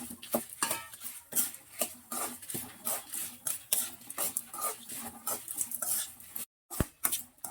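Sesame seeds, coriander seeds and dried red chillies are stirred while dry-roasting in a pan for curry leaves podi, with repeated close scrapes and clinks of a spoon against the pan.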